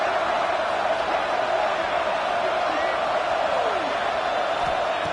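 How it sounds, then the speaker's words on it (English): Home crowd at a football game between Golden and Glaciers, a steady, loud wash of distant cheering and crowd noise that holds throughout, under a commentator's talk. "this home crowd is fired up and ready to make a difference"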